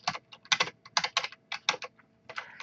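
Typing on a computer keyboard, crisp close key clicks in uneven bursts with short pauses between, heard alone without talk.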